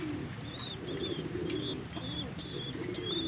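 A black fantail pigeon chick begs for food with repeated thin, high cheeping calls that come in short bursts over a steady low background murmur, close to the listener.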